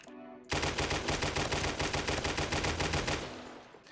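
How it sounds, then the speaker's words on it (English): Rapid, steady automatic gunfire from a gun in the video game 7 Days to Die, a loud unbroken burst of evenly spaced shots at a moderate rate starting after a brief quiet moment and running to the end. "So as you've heard me firing this gun, it's got a pretty standard fire rate."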